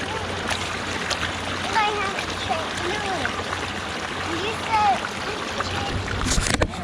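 Water splashes and trickles steadily in a creek as muddy pants are rinsed out by hand, a continuous close wash of sloshing with no voices.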